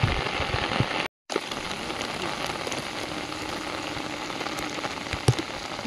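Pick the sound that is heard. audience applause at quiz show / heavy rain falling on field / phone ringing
heavy rain falling on field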